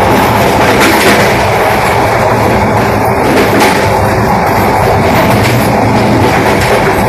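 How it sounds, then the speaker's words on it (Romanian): A passenger train runs between Oradea and Aleșd in Romania, its wheels clattering over rail joints in a loud, continuous rumble with repeated clickety-clack beats and rolling noise. "haideți să ascultăm bătaia joantelor"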